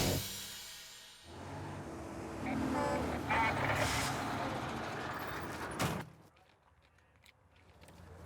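An old truck with a V8 GM engine drives along, its low rumble moderately loud and steady beneath a voice talking in the cab.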